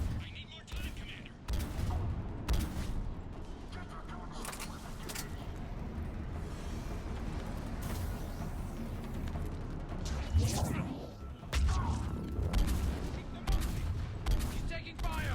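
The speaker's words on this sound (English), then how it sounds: "He's taking fire!" Sustained combat gunfire from Mass Effect 3 during a Cerberus attack on Tuchanka: rapid volleys and sharp shots layered over a rumbling battle bed, with in-game voices shouting.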